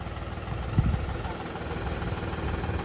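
A tractor-drawn harvester cutting maize in the field runs with a steady, loud engine drone and vibration, with a brief thump near the start and no clear break across the short stretch.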